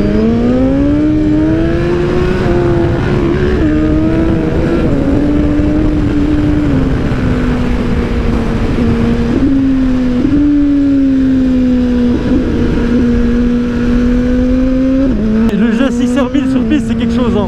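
Suzuki GSX-R motorcycle ridden hard on a race circuit in Dakar, its engine a loud, steady close-up drone that rises and dips with each gear change, while a voice talks over it.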